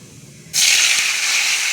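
Mustard seeds splutter in two spoons of hot oil in a kadai. After a quiet start, a loud, sustained sizzling hiss bursts in and holds to the end.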